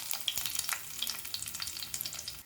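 Four garlic cloves fry in mustard-seed tempering oil for a tomato sambar, crackling and spitting with quick irregular pops over a quiet sizzle, faint and close, before cutting off abruptly.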